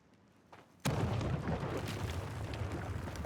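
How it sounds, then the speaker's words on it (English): A big explosion in the video game ASKA bursts suddenly after a quiet moment, then a loud rumbling roar with crackling debris sustains to the end. "Big explosion."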